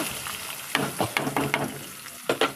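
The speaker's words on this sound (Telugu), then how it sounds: "ఆనియన్స్ పచ్చిమిర్చి ఇవి రెండు అయితే వేసేసుకుని" Onions and green chillies fry in hot oil with a crackling sizzle, broken by several quick scraping stirs, close and fairly loud with no speech.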